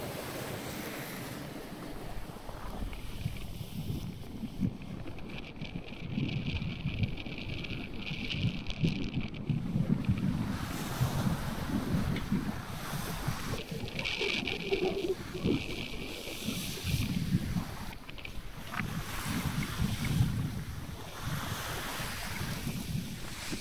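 Sailing yacht at sea in the Bay of Biscay on a delivery from Scotland to Portugal, with continuous rushing wind, buffeting microphone noise and surging waves against the hull, fairly loud and unbroken.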